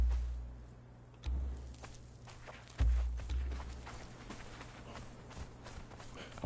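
Horse hooves in the video game Conan Exiles, a few soft irregular footfalls close by with low thumps, no clear steady clip-clop rhythm, and no talking.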